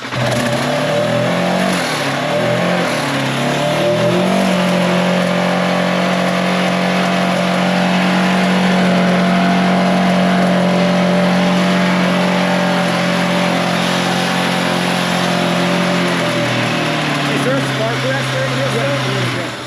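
A Polaris RZR or Can-Am Maverick UTV engine with a plugged exhaust holds a loud, steady drone and rises into revs for nearly twenty seconds, close up, with people talking over it.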